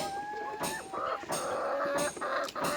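Laying hens cluck and call close by, a string of short, throaty notes rising and falling over a few seconds with no talking.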